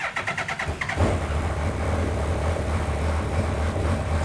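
A Mazda MX5 engine fitted in an Indy race car with MBE engine management cranks with a rapid pulsing starter whir for about a second, then catches and settles into a loud, steady, rumbling idle.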